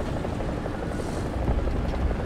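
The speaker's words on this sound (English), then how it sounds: "Oh, I know what it is. It's a chopper." A helicopter in the War Thunder video game gives a steady, dense rotor roar that fills the moment without a break, loud and close, with no voices over it.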